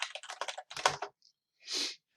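Quick bursts of typing on a computer keyboard, close and fairly quiet, with a rapid run of keystrokes, a brief pause, then a single heavier stroke like the enter key.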